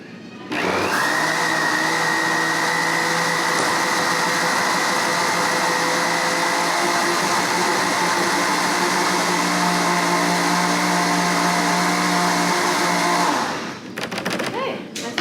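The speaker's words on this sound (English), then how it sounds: "lid goes on once again. And let's blend it up one more time." A blender whirs steadily for about thirteen seconds, mixing a strawberry yogurt smoothie meant for popsicles, then winds down and stops with a few clunks.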